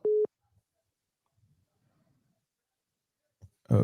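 A single short phone busy-signal tone beeps at the start of a dropped call, followed by near silence and then the onset of a voice at the very end.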